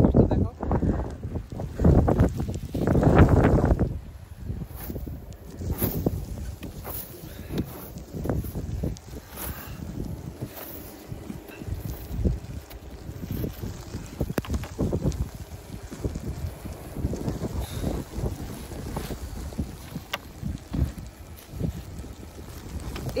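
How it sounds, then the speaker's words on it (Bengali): Strong wind from a snowstorm in Sweden roars and buffets the microphone in gusty, rumbling bursts, heard under a person talking on and off. "বাতাসের শব্দ শুনতে পারবেন মনে হয় ভিডিওতে"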